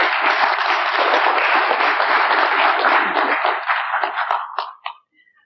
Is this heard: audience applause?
yes